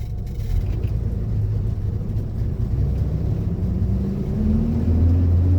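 A Chevrolet Corvair downshifting on the road, a steady low engine rumble heard from inside the car that rises in pitch and grows louder toward the end as the revs climb.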